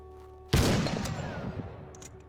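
A single loud gunshot in the Arma 3 Winter War 1939 scenario bursts out after a short quiet stretch, then fades through a long, rumbling echo tail with faint crackles.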